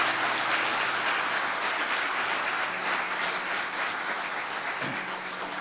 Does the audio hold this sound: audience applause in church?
yes